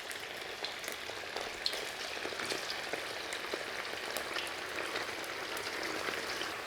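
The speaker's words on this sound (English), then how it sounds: "you blanch the meat in the wok first to get an immediate seal around each piece of" Pieces of beef hiss and crackle steadily as they blanch in a very hot wok, a dense, continuous sizzle held close and even with no talk over it.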